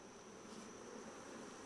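Honey bees shaken from a hive frame into a container give a steady, dense buzzing drone, close and continuous, with no voices.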